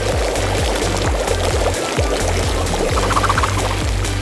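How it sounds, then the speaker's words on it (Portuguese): Hot water from a kettle is poured over instant noodles. A loud, close, continuous gushing pour runs throughout with a faint rhythmic low pulsing underneath. "Tudo que temos a fazer é colocar em água quente."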